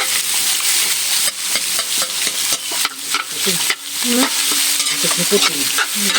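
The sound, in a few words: stirring adobo cooking in a pan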